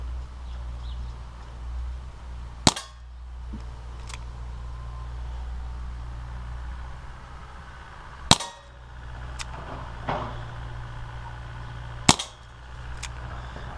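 A Dan Wesson 6-inch 4.5mm CO2 BB air pistol fires three sharp, fairly quiet cracks spaced several seconds apart, each followed by faint clicks and handling noise, against a steady low background hum.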